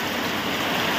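Heavy monsoon rain pours down outdoors as a steady, dense broadband wash with no pauses, close and fairly loud throughout.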